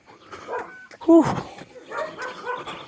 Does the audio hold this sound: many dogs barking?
yes